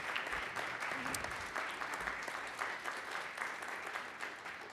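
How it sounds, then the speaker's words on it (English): A crowd at a business school gathering applauds its organizing committee with dense, steady clapping that fills the whole stretch at an even, fairly strong level, with no voices standing out. "please give them a round of applause for putting today together"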